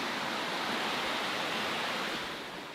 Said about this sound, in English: and there's the river.